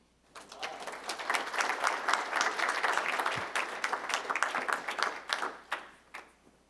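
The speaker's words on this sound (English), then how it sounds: "I'd like to welcome and invite you to applaud for our speaker, Dr. Dillon Carr." Audience applause welcoming a speaker at a lecture on race and social boundaries in Grand Rapids, swelling quickly into steady clapping from a room of listeners, then thinning out toward the end.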